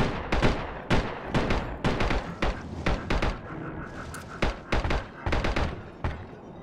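Repeated gunfire in the video game Barotrauma: a string of sharp, loud shots in uneven bursts over the full stretch, with a steady hum beneath. The individual harpoon gun shot cannot be singled out among the other firing.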